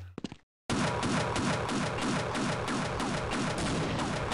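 Gunfire in the video game Half-Life: after a brief quiet gap, a dense, loud burst of rapid repeated shots runs steadily to the end.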